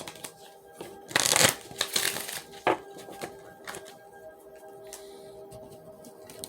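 Romance Angels and Moonology oracle cards being shuffled by hand, soft papery riffles and slides with a couple of sharper bursts, fairly quiet and close, no talking.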